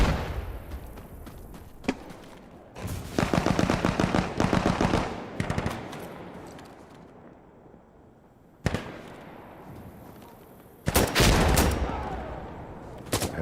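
Gunfire in the tactical shooter Insurgency Sandstorm: a few sharp single shots, then loud rapid automatic bursts, a quieter lull, another sudden shot and a final dense burst of fire.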